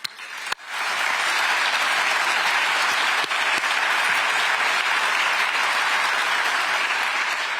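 Audience applause for Rheinmetall's Armin and his staff at a NATO-related address starts abruptly after a sharp knock and swells into loud, sustained clapping from a large crowd.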